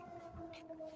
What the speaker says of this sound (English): So it looks like now we have a siren for the noon.